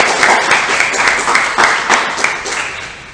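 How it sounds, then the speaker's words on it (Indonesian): Seminar audience clapping together in a lively, fairly loud burst of applause with a slightly rhythmic pulse, without talk over it. "tepuk tangan buat kita semuanya"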